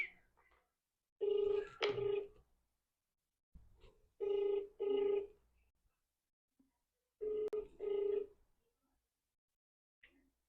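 Telephone ringback during an outgoing call: clear electronic double-burst rings repeat at a steady rhythm, separated by silent gaps, with no voices.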